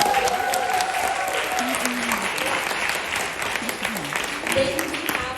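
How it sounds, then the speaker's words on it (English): An audience applauds performers at a university arts festival, a sustained wash of clapping that stays even throughout, with faint voices and a few musical tones underneath. "Please give them a round of applause."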